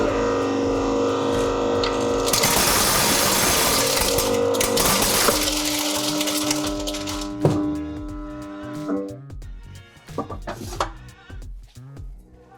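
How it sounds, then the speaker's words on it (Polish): A stone impact test machine pelts a test car hood, a Toyota Yaris GR panel protected with PPF film, with a dense, loud rattling barrage of hits that thins into scattered clatters near the end. "Kamienie i maszyna, która uderza właśnie nam w testową maskę zabezpieczoną folią."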